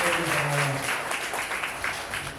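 A church congregation claps together in thanks, a dense, even wash of applause from many hands filling the room at moderate volume.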